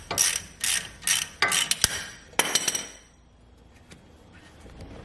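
A ratchet loosens a brake caliper bolt on a Duramax truck, several rapid clicking bursts up close, followed by a few scattered metallic knocks and quiet.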